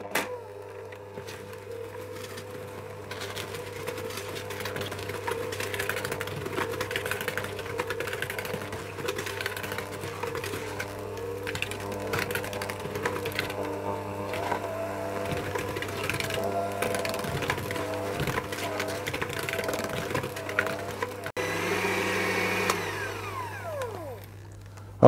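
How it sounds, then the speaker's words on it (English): An electric hand mixer beats sponge cake batter for passion fruit mascarpone cake, giving a steady, loud motor whine with scraping and clatter against the bowl that runs for about twenty seconds and then shifts pitch near the end. "I'm going to mix that with my hand mixer"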